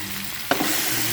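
Pork sizzling in a hot pan at a roadside food stall, a steady fry with a sharp clack of a utensil on the pan, alone without talk.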